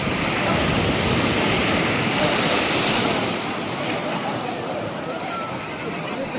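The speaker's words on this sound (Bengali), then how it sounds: "সাজুকি, তোমার সমুদ্র ভালো লেগেছে?" Sea waves roll and crash at Digha beach, a dense, steady roar of surf with wind buffeting the microphone, loud at first and easing slightly toward the end.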